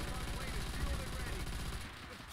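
Rapid automatic gunfire in Call of Duty: World at War, a dense, continuous burst of shots that fills the clip, loud and close, easing slightly toward the end.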